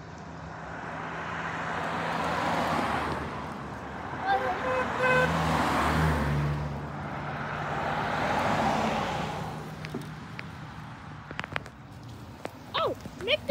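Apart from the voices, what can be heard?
car passing by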